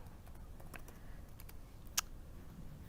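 Sparse, light keystrokes tap on a computer keyboard during a .NET command-line coding session, with one sharper click standing out among quiet, faint presses over a low room hum.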